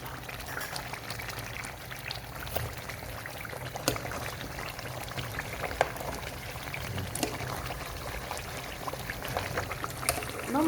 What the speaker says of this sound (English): I'm just going to add a bit of mixed water